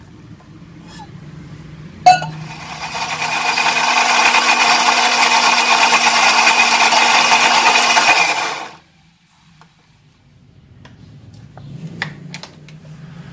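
Spices blended smooth in a kitchen blender with a little water for a seblak-style vegetable dish, a loud steady whirring grind of about six seconds starting with a clunk and stopping abruptly, followed by quiet handling noises.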